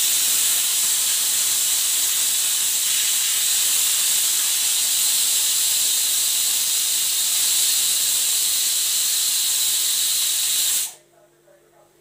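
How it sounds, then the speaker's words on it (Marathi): A pressure cooker whistles while brinjal bharit cooks, a loud, steady steam hiss that runs without a break for about eleven seconds, then cuts off sharply into near silence. "ऐकलंच तुम्ही, छानपैकी कुकरची अशी व्हिसल झालेली आहे"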